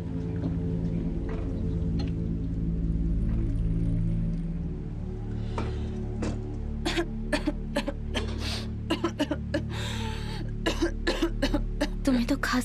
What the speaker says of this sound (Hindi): तुम्हें तो खांसी आ रही है।